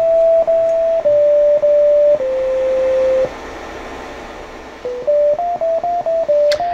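A lullaby jukebox plays the next queued song as a simple electronic melody of steady sustained tones, stepping between pitches with brief breaks, fairly loud and alone.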